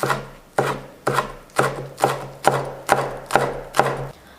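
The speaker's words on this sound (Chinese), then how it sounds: "切成一些小葱花" Knife chopping green onions on a cutting board, eight evenly spaced crisp strokes about half a second apart, close and loud, with no talking.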